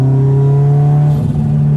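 Turbocharged 1988 Ferrari Mondial Coupe engine revving, a loud close droning hum with strong steady tones that break into a rough, gurgling burble as the revs shift near the end.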